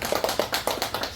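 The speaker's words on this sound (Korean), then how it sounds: "우리 환영해 박수." Brisk, steady clapping from a small church congregation, fairly close, with even rhythmic claps and no talking.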